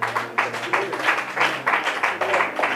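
A church congregation at a French-language Bible teaching bursts into applause, rhythmic clapping in repeated surges over a low steady hum, fairly loud and close, with no speech over it.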